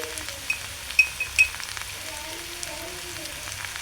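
Ground coriander and cumin powders sizzle in hot oil in a frying pan as they are stirred in for a roti and potato curry, a soft steady crackle with a few light clinks of the spoon against the pan.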